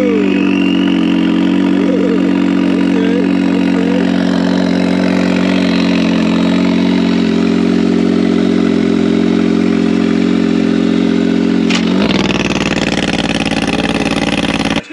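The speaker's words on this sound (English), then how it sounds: "I finally found a car that's as loud as my car" A loud side-by-side engine idles with a deep, steady rumble and rough clatter, close by at Little Sahara sand dunes, ending in a brief rev and abrupt change near the end.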